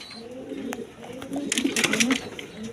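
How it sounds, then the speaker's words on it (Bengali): A pair of Danish pigeons coo softly in a pigeon market, low murmuring coos mixed with rustling and scattered clicks, fairly faint and close. "এক পেয়ার ডেনিশ আছে 3 পটি লাল গিয়ার"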